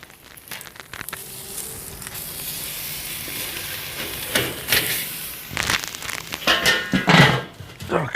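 Australian wagyu tomahawk steak searing over an open fire on a Weber kettle grill, a steady hissing sizzle with crackles, growing louder with bursts of popping and rustling toward the end.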